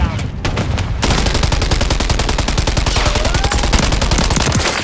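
Rapid automatic gunfire from a first-person shooter video game rattles in dense, loud bursts. A short broken burst opens, then sustained fire continues, with a voice faintly underneath.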